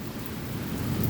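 A Midwest thunderstorm brings steady heavy rain and hail striking surfaces outdoors, with a low rumble of thunder swelling underneath, continuous and close.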